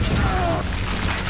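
A BFG fires in Quake II, a loud, close, booming energy blast with a sweeping tone that fades over about a second. A voice talks over it.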